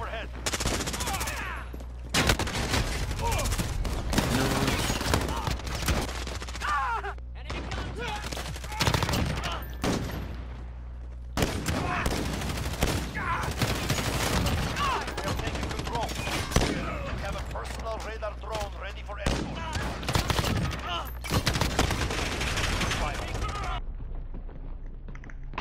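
Rapid bursts of Call of Duty gunfire crackle through a hectic video game firefight, with dense automatic fire and scattered shots repeating over about twenty-five seconds, broken by a few brief lulls.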